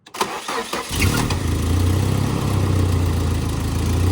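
A Nissan Hardbody D21 pickup truck engine cranks briefly, catches, then settles into a steady, loud rumbling idle close by, without much misfiring.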